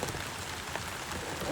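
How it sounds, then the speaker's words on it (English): Steady rain pours outside a backyard camping shelter, a dense, continuous hiss of drops pattering on the roof and surroundings, close and even throughout with no voices. "That is some rough weather, and I hate getting packed up in the rain."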